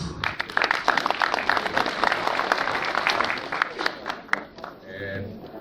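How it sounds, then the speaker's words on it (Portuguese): An audience at an education and socioeducational services dialogue session applauds loudly with many hands clapping, fading out as a voice begins speaking near the end. "Uma salva de palmas"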